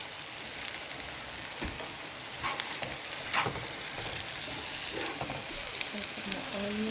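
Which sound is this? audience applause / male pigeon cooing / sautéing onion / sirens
sautéing onion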